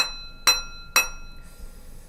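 Two sharp metallic clinks from a Tibetan singing bowl struck while gripped, evenly spaced, each muted quickly with no lingering ring, followed by faint background noise.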